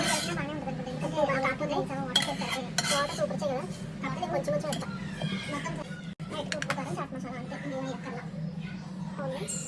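Boiled potato and peas being smashed in a bowl, with repeated clinks and scrapes of utensil on dish under steady nearby talking.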